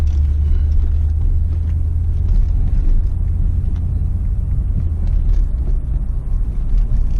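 A Rolls-Royce Silver Spur's 6.75-litre V8 rumbles steadily and loudly, a deep continuous drone heard close, with no voices over it.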